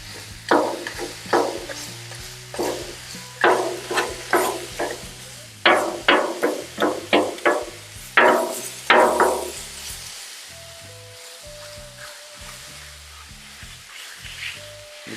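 Ground chicken sizzling on a Blackstone griddle for lettuce wraps, with a rapid series of sharp metal spatula scrapes and taps as the meat is turned and spread, steady frying hiss underneath, then quieter clinks near the end.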